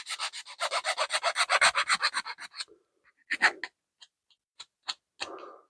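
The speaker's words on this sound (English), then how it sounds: "I'm hitting the corners and the ends of these ballast loads that we just cut, where we actually did the cuts with a file." A hand file rasps rapidly back and forth across the cut corners of an HO scale ballast load, a quick run of about fifteen close, even strokes followed by a few scattered scrapes and taps.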